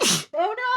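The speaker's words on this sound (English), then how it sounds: "Sneezing." A woman sneezes once, a sharp breathy burst followed by a brief voiced, moaning tail, close to the mic.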